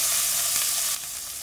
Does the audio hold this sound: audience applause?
no